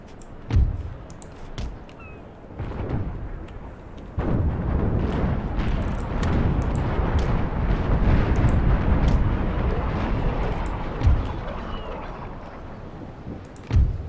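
Ship cannons firing in Imperial Splendour during a North Sea sea battle: a few sharp separate booms followed by a long sustained roar of volleys, with scattered thuds toward the end.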